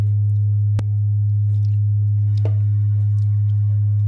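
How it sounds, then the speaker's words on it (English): A steady, pure FM synthesis tone holds throughout, with faint higher chirps and blips flickering over it and a brief click near the start. "you can just get some really cool tones out of FM synthesis"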